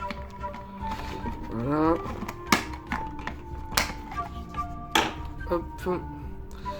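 A knife cuts open the packaging of a Smilodon dinosaur figurine, producing a few sharp clicks and crisp plastic snaps against a quiet room, with someone talking briefly at close range.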